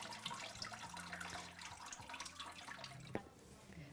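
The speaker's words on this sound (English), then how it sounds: "when you lift it up, it holds all the pulp and the water drains out" Water draining out of paper pulp held in a lifted papermaking mould, a faint steady trickle and patter of drips falling back into the vat, close by, with a low background hum.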